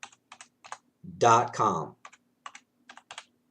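Fingers tap a computer keyboard while setting up Gmail in Outlook 2010: sparse, close clicks in short clusters, broken by a brief spoken phrase in the middle.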